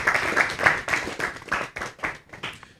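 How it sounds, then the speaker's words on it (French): An audience at a youth event launch in Treichville, Côte d'Ivoire, bursts into rhythmic clapping for a team, loud and close, the claps falling in pulsing bursts about every quarter second before tapering off. "On les acclame, s'il vous plaît."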